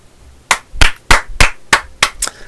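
Seven sharp, distinct hand claps ring out close by at a steady rhythm, each a crisp snap with nothing else heard between them.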